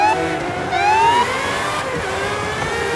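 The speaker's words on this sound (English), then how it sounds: "Listen to them cars." Race cars accelerating together from a rolling start in the video game Forza Horizon 5, a loud continuous engine roar with rising revs and overlapping pitch sweeps from several cars.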